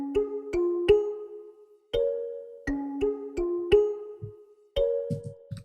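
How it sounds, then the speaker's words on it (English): Two layered kalimbas, one natural-sounding and one lo-fi overdriven, plucking bright metallic tines in a gentle melodic pattern with short decaying notes and occasional soft low thumps, close and clear. "So I went ahead and created a track stack with the two kalimbas"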